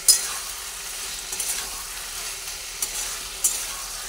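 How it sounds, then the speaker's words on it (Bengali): Cumin and coriander powder being stirred in a frying pan for a Bengali hilsa-head Malabar spinach dish, a soft steady sizzle with a few light spatula taps at close range, no talk. "দুটো দিয়ে আবার ভালোভাবে একটু নাড়াচাড়া করে নিচ্ছি"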